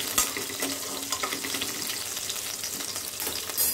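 Garlic and three green chilies fry in hot oil for a potato fry, producing a busy crackling sizzle with occasional stirring clatter, close by and without speech.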